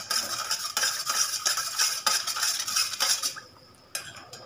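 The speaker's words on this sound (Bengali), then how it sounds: "ভালো করে আগার আগার পাউডার মিশিয়ে নিচ্ছি।" A small spoon stirs agar agar powder into cold water, clinking and scraping rhythmically against the container for a few seconds before falling quiet, with one last tap at the end.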